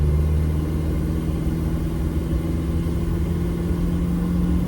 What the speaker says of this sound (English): I'm just barely getting on the throttle, about 12 PSI.